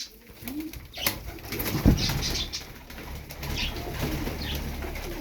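Kobra Yılanı game pigeons coo softly close by, with scattered low calls, a brief burst of wing flapping and light background rustle.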